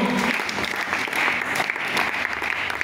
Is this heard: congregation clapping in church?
yes